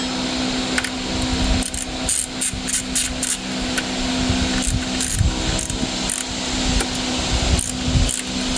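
A ratchet working loose the old idler pulley bolt and spacer on a 2000 Chevy Blazer engine, rapid clicking pawl bursts in repeated runs, close and fairly loud over a steady mechanical hum.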